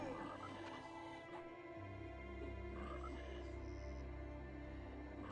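Frogs croaking in the video game EverQuest, a low, continuous chorus of croaks that swells after a brief lull, with no talk over it.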